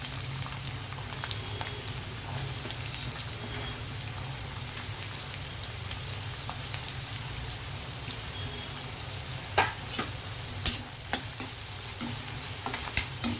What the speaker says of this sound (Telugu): ఆనియన్ ఫ్రై చేద్దాం.